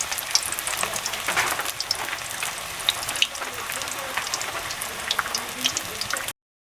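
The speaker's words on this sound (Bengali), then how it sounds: "গরম হয়ে গেছে, এবার আমি বড়াগুলো ভেজে নেব।" Malabar spinach fritters frying in hot oil, a dense continuous crackling sizzle with scattered sharp pops, loud and close throughout, with no talking.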